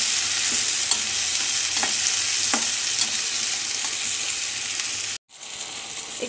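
Green beans frying in a wok for veg chowmein, with a steady bright sizzle throughout and light stirring clicks, then a brief cut to near silence before the sizzle resumes.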